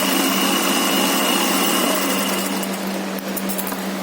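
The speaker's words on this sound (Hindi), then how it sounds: "ये इसको मैं डबल सिलाई करूंगी।" A sewing machine runs continuously at a fast, even whir while double-stitching a pant pocket, then slows and stutters briefly near the end.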